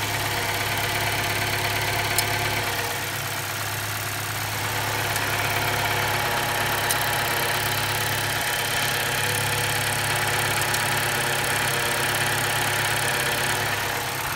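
A Chevy Cruze engine idles continuously at close range with a steady low hum and faint mechanical ticking throughout; no one speaks.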